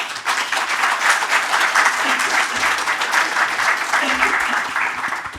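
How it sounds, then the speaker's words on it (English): Conference audience applause welcomes a speaker to the stage, continuous dense clapping from a room full of people throughout, with a faint voice or two underneath. "round of applause"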